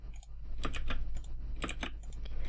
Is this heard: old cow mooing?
no